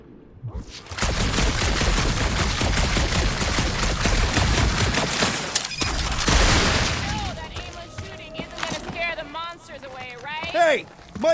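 Dense sustained gunfire in Marvel's Guardians of the Galaxy, a loud continuous crackling barrage lasting several seconds that breaks off into scattered shots, with voices talking over the tail end.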